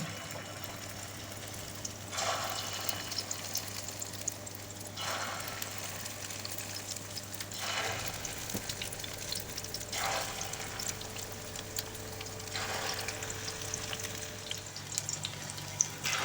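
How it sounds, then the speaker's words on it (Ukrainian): Batter-dipped cabbage and potato pancakes fry in hot oil in a pan, giving a continuous soft sizzle with periodic louder hissing bursts as pieces are added or shifted, heard alone and fairly quiet. "Кожен блінчик обмакуємо кляр і викладаємо на сковорідку."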